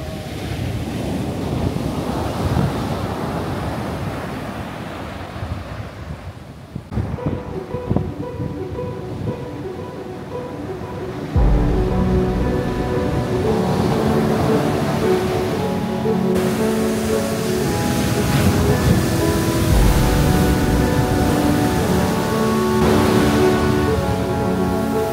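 Surf rolls steadily onto a black sand beach on Réunion, a continuous loud wash of breaking waves mixed with gusty wind buffeting the microphone, with no voices.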